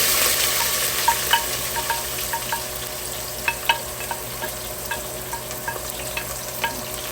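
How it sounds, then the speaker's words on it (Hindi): Onions frying in oil with cumin seeds in a pan, a steady close sizzle with scattered small crackles and pops and occasional stirring scrapes, no talk over it. "तो अब हम इसमें प्याज डाल देते हैं।"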